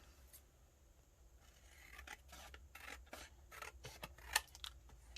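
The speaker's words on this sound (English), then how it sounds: "Not that I can cut straight with scissors" Scissors snip through a brown paper bag and junk mail paper in a series of crisp, irregular cuts that grow louder and closer, with one sharp snap near the end.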